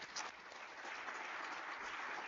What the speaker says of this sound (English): let us give one final tremendous round of applause